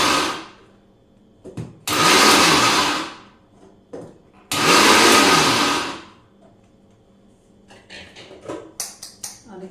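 A mixer grinder on pulse mode whirs loudly in two short bursts of about two seconds each, stopping in between, with faint knocks and rattles after the second burst.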